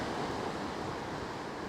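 Heavy rain hammering down on a UK beach during fishing, a dense, steady hiss of rainfall mixed with wind and surf, loud and unbroken from start to end.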